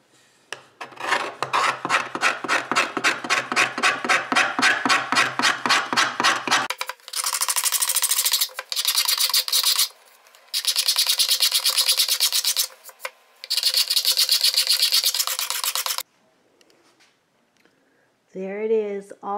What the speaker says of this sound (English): it's very tricky to know which way to scrape it so that it will come out beautifully smooth